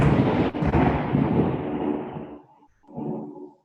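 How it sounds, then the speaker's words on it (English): A loud, close crack of thunder bursts out and rolls on for about two seconds, then dies away, with a second, shorter rumble just after. "Lightning and thunder, crack."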